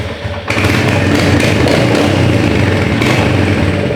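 A motorcycle engine kicks in abruptly and runs loudly nearby, a steady thumping idle with slight revving, alone with no talk.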